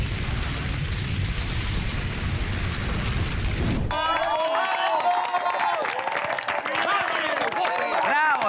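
Loud applause and cheering from a TV cooking-competition studio audience, continuous across the clip after an abrupt shift in the mix, with a host's voice and music layered over it.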